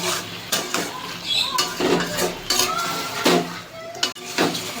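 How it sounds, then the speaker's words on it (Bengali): Egg, soybean chunks, onion and capsicum sautéing in a pan for soybean egg chilli, with repeated clinks and scrapes of a spatula against the metal and a soft sizzle underneath, close and steady throughout. "একটু ভালো করে ডিম সয়াবিন পেঁয়াজ ক্যাপসিকামের সঙ্গে কষিয়ে নেব"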